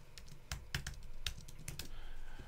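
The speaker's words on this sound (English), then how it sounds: "Type in my password." Password typed on a computer keyboard, a quick run of light key clicks in an uneven rhythm, close and fairly quiet with no talking.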